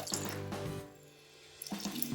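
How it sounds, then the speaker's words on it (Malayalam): Water poured into a pressure cooker holding brinjal and potato pieces for a curry, a short close splash and trickle at the start and again near the end, with a quiet pause between. "ഇത് കുക്കറിലേക്ക് ഇട്ടതിൽ കുറച്ച് വെള്ളം ഒഴിക്കാം"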